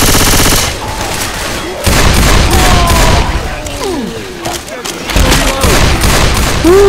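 Gunfire in the video game Left 4 Dead 2 on Expert Realism, loud rapid bursts of automatic shots and booms, with voices shouting over the shooting.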